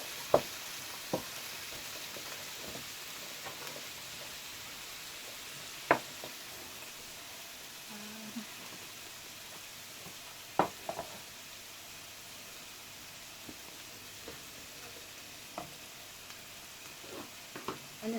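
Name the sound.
frying and stirring celery and garlic with mince beef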